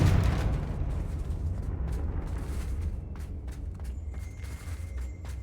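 Confringo fire spell exploding in Hogwarts Legacy, a loud low boom at the start that decays into a rumbling tail with scattered crackles and small impacts.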